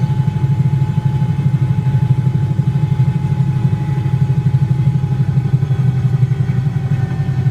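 A Bell 222B helicopter's engine idles after landing in a flight simulator game, a loud steady mechanical drone with a fast throbbing pulse and a faint high whine, with no talking.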